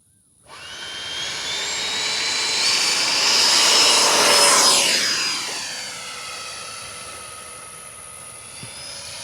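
A Freewing A-6 Intruder 80mm EDF RC jet takes off, its ducted fan rising from silence into a loud, high whine that swells and shifts in pitch as it passes, then eases to a steady fainter drone.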